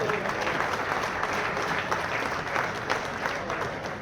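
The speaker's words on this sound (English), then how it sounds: "Big round of applause for Gabe right here." Steady, dense applause from the audience at a bowling Hall of Fame induction ceremony fills the room, a continuous wash of many hands clapping at even strength throughout.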